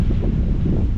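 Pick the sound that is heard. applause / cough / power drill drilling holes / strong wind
strong wind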